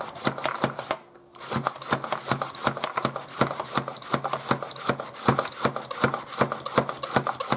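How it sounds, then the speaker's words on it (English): A rapid, steady series of crisp chopping clacks repeats close up from a hand-operated vegetable slicer working through vegetables, with only a brief pause early on. "Now it is chopping, as you can see, it's chopping away."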